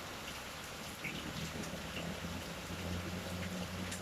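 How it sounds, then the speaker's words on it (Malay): Heavy rain pours steadily and densely in Taiping, a constant broadband hiss that fills the whole stretch without pause, with no voices over it. "Di Taiping sekarang ni hujan lebat"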